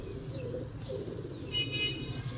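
Prize pigeons coo softly in a low, steady murmur close by, with faint chirps above it and no talking.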